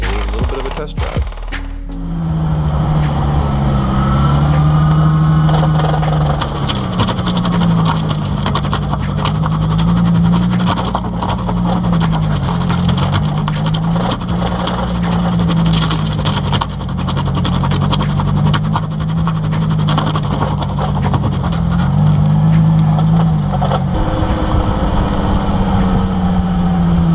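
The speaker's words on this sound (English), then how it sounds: "time to put everything back together. And time for a little bit of a test drive." Nissan 350Z drift car with a welded differential on a test drive, a loud steady engine drone with rising and falling revs that run for nearly half a minute, heard from inside without talk.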